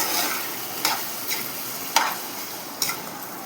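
Turmeric gets stirred into a frying seasoning for mango pulihora, giving a soft steady sizzle with four distinct scraping stir strokes spaced about a second apart, close by and fairly quiet.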